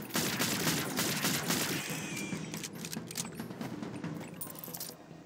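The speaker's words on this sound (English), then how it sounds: "I'll shoot it with a gun." Rapid gunfire in the video game Zombotron, a dense burst of crackling shots up front that thins into scattered pops and game noise over the rest of the stretch.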